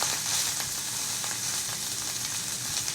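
Leftover cooked rice fries in a hot pan with an even, crackling sizzle that holds steady throughout, nobody speaking.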